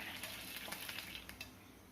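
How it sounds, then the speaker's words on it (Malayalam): Coconut oil hits a hot pan for tempering a curry, a faint continuous sizzle with light metallic stirring clicks, close and quiet with no voices. "നമുക്കിതിലേക്ക് വെളിച്ചെണ്ണ ഒഴിച്ച് കൊടുക്കാം"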